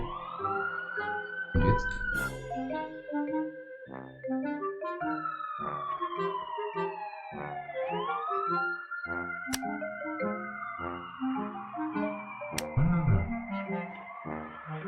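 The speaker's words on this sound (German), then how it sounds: "Jetzt haben wir Sirenengeräusche." Police sirens wail and sweep up and down continuously in the video game The Wardrobe, with several overlapping tones, loud and unbroken, while a person briefly speaks.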